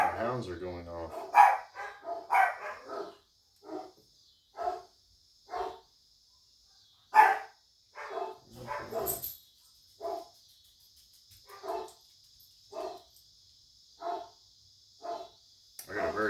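Hound dogs bark outside in evenly spaced, fairly loud single barks, with a steady high insect-like whine running underneath and a busier cluster of barks at the start.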